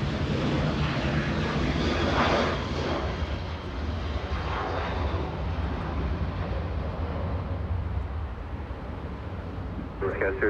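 A Southwest Airlines Boeing 737-700 departs for Phoenix, its engines a loud continuous roar that slowly fades, with voices talking over it.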